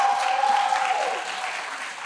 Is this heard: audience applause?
yes